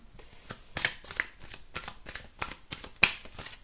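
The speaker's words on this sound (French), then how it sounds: "on va aller faire un tirage, je remélange" Tarot cards are reshuffled by hand in a series of soft, close riffling and flicking bursts, uneven in rhythm and fairly quiet, with no talk over them.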